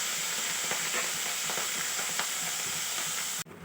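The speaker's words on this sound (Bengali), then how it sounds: "মাছগুলো আমি ভেজে নেব এক এক করে" Small puti fish sizzle and crackle in hot oil in a kadai, a steady close frying hiss with faint stirring taps, cut off abruptly near the end by a brief handling noise.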